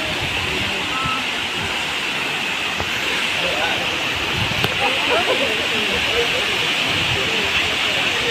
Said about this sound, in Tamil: அதாவது சில்வர் ஃபால்ஸுன்ற ஒரு இடத்துல தான் இருக்கும்